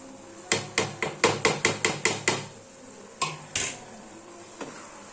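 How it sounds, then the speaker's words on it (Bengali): A spatula clacks against a pan while Maggi noodles with fried eggs are stirred together: a quick run of about ten sharp, evenly spaced knocks, a pause, then two more, with no talking. "ডিমগুলো দিয়ে আমি ভালো করে নাড়িয়ে নেব।"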